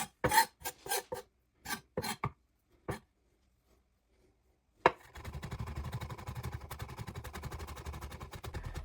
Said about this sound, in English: I'm going to run the knife through it a few more times, just to try and make everything nice and even.